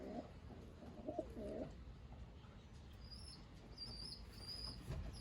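Hubin Clausen cross Jensen Hopkins racing pigeons cooing softly in a loft, low throaty coos early on over steady background hum, with a few faint higher chirps later.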